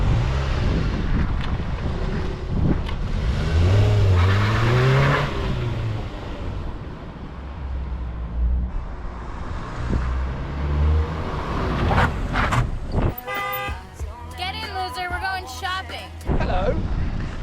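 A salvaged Mazda MX5 with a newly fitted differential drives along a road, its steady engine and road rumble mixed with heavy wind buffeting, while someone talks over the noise throughout.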